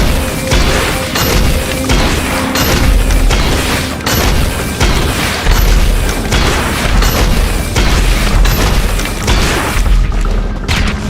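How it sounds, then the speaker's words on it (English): Rocket launcher fire and explosions in GTA Online PvP, loud booming blasts repeating roughly every second in a rapid steady rhythm, each with a sharp crack and heavy low rumble, close and dominant. "You're gonna run towards them. Shoot the RPG."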